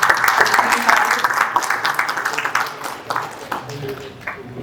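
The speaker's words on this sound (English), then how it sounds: "Huge round of applause" Audience applause at the welcome of a panel discussion on energy-efficient, eco-friendly cold chain infrastructure, a steady spread of clapping with murmured voices underneath, tapering slightly toward the end.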